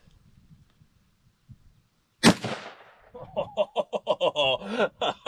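A shotgun loaded with birdshot blasts a piñata once, a single loud sharp report after a quiet lead-in, followed by bursts of laughter and excited voices.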